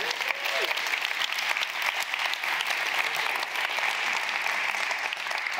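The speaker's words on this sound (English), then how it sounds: "I would also like a round of applause for our special distinguished guests from the continent itself" An audience at a conference gives a round of applause for guests: dense, steady clapping from many hands that stays loud and even throughout, with no talk over it.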